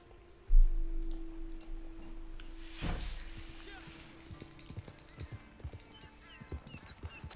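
Horse hooves clip-clop in the Red Dead Online video game, a soft rhythmic patter following a sudden thump, faint under a low steady hum, with no talk.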